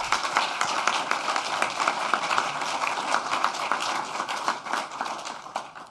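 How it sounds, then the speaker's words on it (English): Steady audience applause fills a hall at the r2con 2019 security conference closing ceremony, many hands clapping continuously at moderate volume for several seconds with no talking. "big applause"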